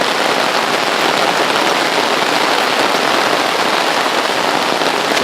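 Heavy rain from Hurricane Harvey falls steadily in eastern Kentucky, a loud, dense, unbroken hiss of drops pattering on surfaces with no pause.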